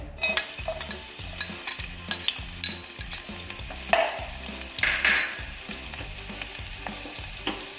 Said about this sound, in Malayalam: വെളുത്തുള്ളിയും ഇഞ്ചിയും ചെറുതായിട്ട് അരിഞ്ഞതാണ്, അതുകൂടി ഇതിലോട്ടേക്ക് ചേർത്ത് കൊടുക്കാം.